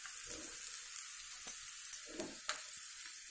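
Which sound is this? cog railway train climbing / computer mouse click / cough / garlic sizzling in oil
garlic sizzling in oil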